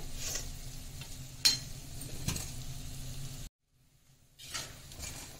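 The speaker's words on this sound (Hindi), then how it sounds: "हम इनको बराबर चलाते हुए ही सेक रहे हैं" Namak paare dough pieces frying in oil over a high flame, a soft sizzle with occasional stirring clinks against the pan, cut by a brief silent gap before resuming.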